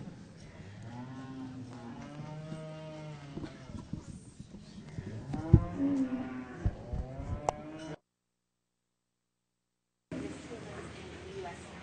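Dairy heifers at a cattle show low with long, drawn-out moos, close and full, mixed with people talking, before a short silent break and another stretch of sound.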